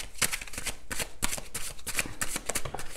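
Tarot cards being shuffled, a series of quick riffling, flapping bursts in an uneven rhythm, close and clear with no talking.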